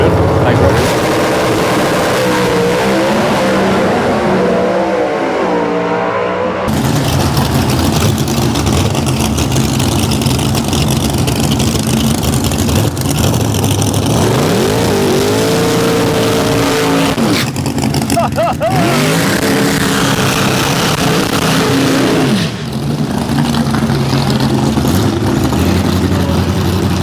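A drag racing car idles loudly and revs at Perth Motorplex before a final qualifying pass, with engine sweeps rising and falling and a crowded, noisy track setting, and voices talking over it.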